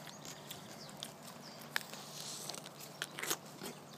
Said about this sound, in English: No, just me eating my cucumber.